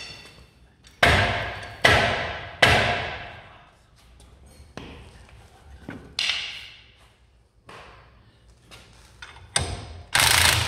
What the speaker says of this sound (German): das Schlagen mit dem Hammer.